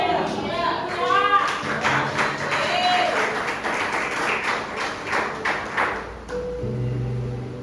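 Congregation at a church service applauding, a dense patter of many hands that fades toward the end while a voice speaks over it and a tone rings out.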